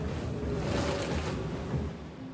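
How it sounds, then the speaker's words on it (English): Strong 38-knot wind and breaking waves at sea batter a racing sailboat in the Vendée Globe solo round-the-world race, a loud, continuous roar of wind and surf close to the microphone. "strong wind. Still 38 knots."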